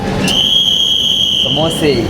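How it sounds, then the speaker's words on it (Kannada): A train rumbles past with a sustained high metallic whine and steady rolling noise near Chickpet market in Bengaluru, with a voice briefly audible. "ಟ್ರೈನ್ ಹೋಯ್ತೈತೆ"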